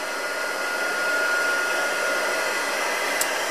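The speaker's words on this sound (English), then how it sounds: "always warm up your heat gun" A heat gun blows steadily while warming up before melting embossing powder on cardstock, a constant breathy whoosh that stays loud and even from start to finish, with no voices.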